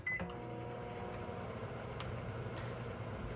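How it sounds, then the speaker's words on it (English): A microwave oven heating honey gives a steady electrical hum with a low drone throughout, with a short beep-like tone at the start. "Just gonna put honey in the microwave for a hot second."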